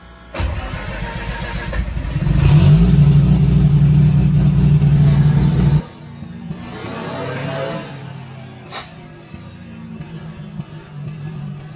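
A Bridgeport-ported turbo Renesis rotary engine cranks and fires up, revving loudly for a few seconds before dropping back to a rough, lumpy idle, close by with no talking.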